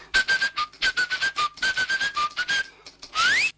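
A person whistles a quick, bright tune of short rhythmic phrases, loud and close, ending in a long rising slide.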